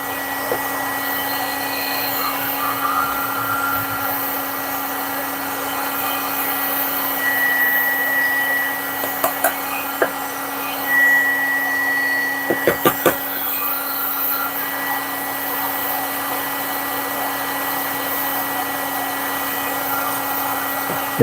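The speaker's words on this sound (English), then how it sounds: "I know it's the noise of the heat gun." A heat gun runs nonstop as a steady airy whir with a constant hum beneath it, close and fairly loud, broken by a few faint clicks and knocks near the middle.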